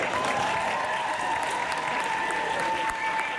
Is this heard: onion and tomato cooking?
no